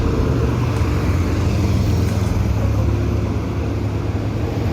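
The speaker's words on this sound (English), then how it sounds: "Goodness, the traffic these days." Dense road traffic as a continuous broadband roar of passing vehicles, loud and steady with no clear individual passes and no talk.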